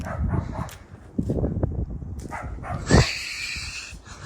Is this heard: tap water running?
no